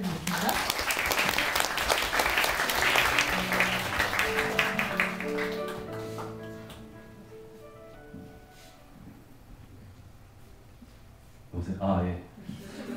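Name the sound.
audience applause welcoming the speaker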